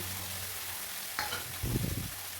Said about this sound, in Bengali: এরপরে মশলাটাকে ভালো করে কষিয়ে নিব